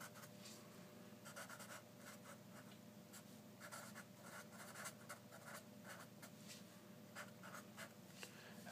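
Marker or chalk writing on a board during a decision theory lesson, heard as steady scratchy strokes and taps that repeat over a constant hum, faint and close.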